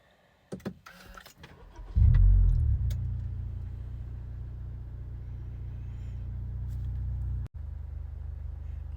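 A Honda Civic RS engine with automatic transmission cranks and starts, then settles into a steady, low idle rumble while warming up, continuing evenly, with one brief dropout near the end.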